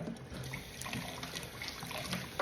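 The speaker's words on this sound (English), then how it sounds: "Rinse it off as we go. Make sure all the suds are gone." A vintage hat is rinsed under running water to wash out the suds, a close, steady trickle and splash of flowing water with no voices.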